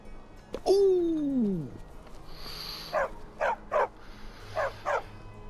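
A dog lets out a long, loud whining yelp with a falling pitch, then a series of five short, sharp barks at a steady rhythm, fairly close by.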